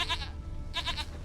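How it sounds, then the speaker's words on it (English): A goat in The Witcher 3 gives two short bleats, the first at the start and the second near the end, fairly faint over a low game ambience. "Here, goat."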